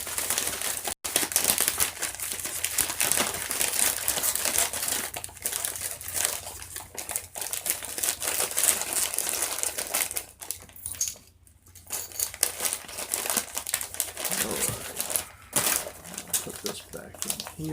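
Trauma kit gear rustles and crinkles as it is stuffed back into a resealable plastic bag, with close, busy handling noise throughout and a person talking over part of it.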